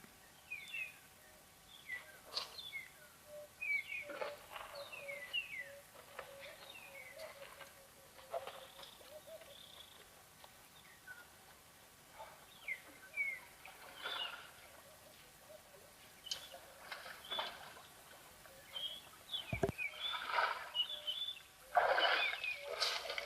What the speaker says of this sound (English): Sometimes it's just nice to listen to the sounds of the waterhole